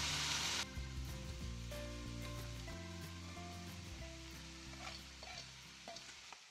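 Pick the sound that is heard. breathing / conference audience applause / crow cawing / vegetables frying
vegetables frying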